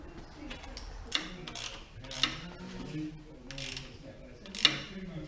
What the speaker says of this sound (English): So we'll get our 20mm socket onto them. Just do them up gently together, evenly.